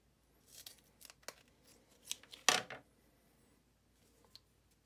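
Scissors snip the tabs off PortaKeeper strips in several short, sharp cuts, close and fairly quiet, with one louder crisp snip in the middle and a faint click near the end.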